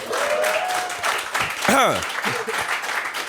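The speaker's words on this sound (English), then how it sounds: "Round of applause again for the improv comedy" An audience applauds an improv comedy act in a dense wash of clapping while voices whoop and call out over it, loud and close.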